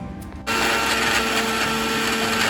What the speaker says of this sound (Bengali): মিক্সির মধ্যে, চলে যাচ্ছে চিংড়ি মাছের মাথাগুলো মিক্সির বাটির মধ্যে, চলে গেল সামান্য পরিমাণ সর্ষের তেল